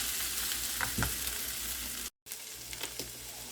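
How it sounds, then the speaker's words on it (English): Grated potatoes fry in a pan with bacon over high heat, a steady loud sizzle with a few scraping stirs, broken by a brief silent gap. "what I'm going to do is just put the potatoes right in"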